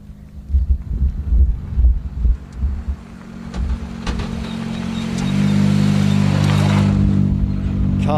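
A rally car at Rally Liepāja rolls up to the stage stop line at the end of the first special stage, its engine rumbling close by and swelling in a steady roar amid wind buffeting.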